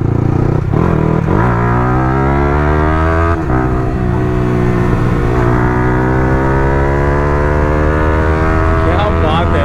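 A Yamaha YZF-R15 V3 motorcycle with a chopped Akrapovic exhaust revs hard up close, its loud raspy engine note climbing in pitch in repeated rising sweeps.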